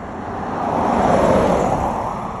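A car on a road at the Gettysburg battlefield, passing close by as a broad whooshing swell that builds and fades over a couple of seconds.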